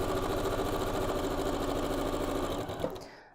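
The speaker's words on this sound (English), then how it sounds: "let's get this one sewn" A sewing machine stitches quilt block pieces together, a close, fast rhythmic mechanical whirr that runs steadily and then stops near the end.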